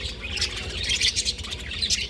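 Small birds waiting to bathe chirp in quick bright bursts, several overlapping tweets close by over a low background hum, no voices.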